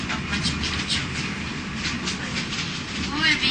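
A train rolls on rails toward Machu Picchu station in Peru, the last stop on the line, with a steady clickety-clack rumble and wheel noise heard from inside the carriage, loud and continuous throughout.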